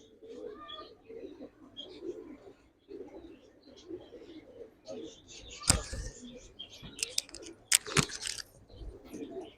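Chini breed pigeons coo softly and repeatedly nearby, their low burbling calls mixed with occasional wing flaps and scuffling sounds in a loft, with faint chirps in the background.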